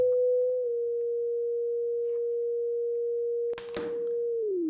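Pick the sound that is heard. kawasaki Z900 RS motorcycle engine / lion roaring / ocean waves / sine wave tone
sine wave tone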